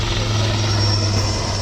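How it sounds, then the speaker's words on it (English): Rudra armed helicopter making a strafing run and combat maneuvers at an Indian Army Vijay Diwas display, a steady loud rotor and engine roar with a deep hum, unbroken and without talk. "Rudra 1 is now carrying out an armed helicopter strafing run and combat maneuvers"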